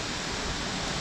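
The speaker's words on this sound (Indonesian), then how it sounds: "Lokasi dari kita berjalan ini sudah kedengaran kawan, suasana derunya air terjun ya." Rushing waterfall at Curug Putri Palutungan, a nature spot with a camping ground, giving a loud, dense, continuous roar of falling water with no voices.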